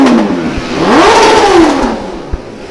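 Bobby's motorcycle engine revs hard at the Bukit Peusar circuit, its pitch sweeping up to a loud peak then falling away in one long pass, with a brief knock near the end.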